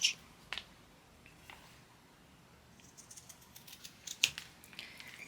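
Scissors snipping fabric for a medium backpack, a few faint, sparse cuts: a sharp snip at the start, another shortly after, then a quicker cluster of small crisp snips near the end, close by in a quiet room.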